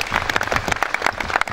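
A round of applause from the audience at an annual assembly of registered quantity surveyors, many hands clapping in a dense, lively patter at moderate distance, with no voices over it.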